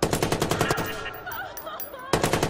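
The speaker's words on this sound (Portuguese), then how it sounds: "Alguém está atirando." Video game gunfire in Watch Dogs: a loud, rapid burst of automatic shots, a short quieter gap with faint background sounds, then another burst starting up.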